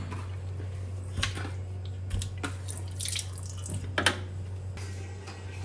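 Running water from a tap splashes and drips as cleaned mackerel fish are rinsed and rubbed with salt in a sink, with soft squishy handling noises and occasional louder splashes.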